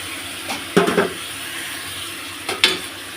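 Fish and potato pieces with a little chili powder are stirred in a pan, giving a few brief scraping and sizzling bursts near the start and again toward the end over a steady low kitchen hiss.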